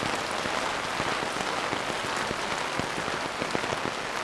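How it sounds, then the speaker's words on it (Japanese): Heavy rain pours onto a Tokyo shopping street between Ikebukuro and Otsuka, a dense, steady hiss with scattered close drops, loud and continuous with no voices. "ちょっと雨音が大きすぎてマイクどうなんですかね。"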